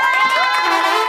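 A crowd cheers and shouts in a loud, high-pitched burst, many voices overlapping in sustained excitement for about a second, at a birthday celebration with a mariachi band.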